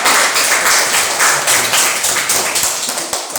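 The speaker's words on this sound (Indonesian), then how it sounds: "Ayo tepuk tangan untuk kelompok 2" A class of students applauds a group's presentation in a classroom, a dense, steady wash of many hands clapping at close range with no voices over it.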